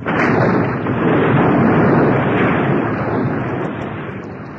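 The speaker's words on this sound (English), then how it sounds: "The ground heaved, and the stone rolled back, leaving Aladdin trapped in the cave." A storytelling sound effect of heaving ground and a rolling stone sealing a cave: a loud, sustained, rumbling roar holding steady for several seconds, then easing slightly, with no voice over it.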